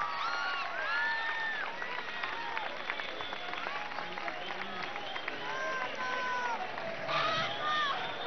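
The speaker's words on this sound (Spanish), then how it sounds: "Un aplauso para Carlito." Crowd applause at a street march for educational revolution, the clapping mixed with crowd voices and whistles, steady throughout and swelling slightly near the end.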